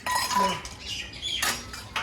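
Dishes and utensils being washed in a family home: quick, faint metallic clinks and clatter in short bursts, fairly close and low in level.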